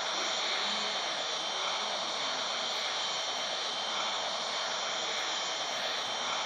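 An airplane engine drones steadily in flight in the Flight Sim 2018 video game, a constant broadband roar with a high whine on top, moderately loud and uninterrupted.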